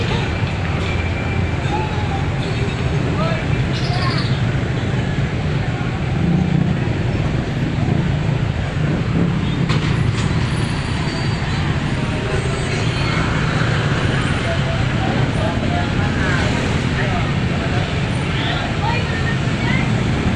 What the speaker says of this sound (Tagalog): Ayan, traffic talaga.